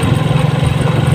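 A motorcycle engine runs steadily at low speed, loaded with two sacks of sweet potatoes, a close, loud, even mechanical drone with a pulsing low throb.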